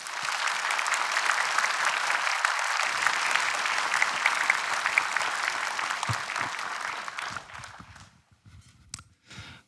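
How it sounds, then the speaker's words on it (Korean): A church audience at an evening healing revival service applauds loudly to welcome a pastor, a dense sustained round of clapping that fades out over the last couple of seconds, leaving a few scattered claps. "뜨거운 박수로 목사님 모시도록"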